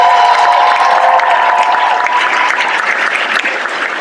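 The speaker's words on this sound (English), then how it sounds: "I would like for all of you to applaud this faculty." A large audience at a Black Baccalaureate graduation ceremony at SDSU applauds the faculty, a dense, steady wash of clapping with some cheering, loud and sustained throughout before easing slightly toward the end.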